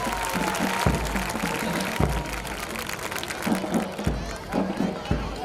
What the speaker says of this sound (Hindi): तो एक बार जोरदार तालियां हो जाए इनके लिए।